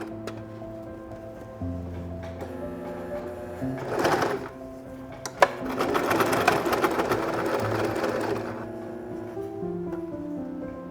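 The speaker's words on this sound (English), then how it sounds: "Let's take it to the sewing machine." A sewing machine stitches denim jeans in short bursts, a rapid mechanical whirr rising louder for several seconds mid-way, with fabric handling and small clicks between runs.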